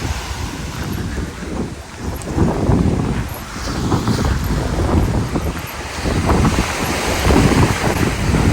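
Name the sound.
open sea with wind in the Maldives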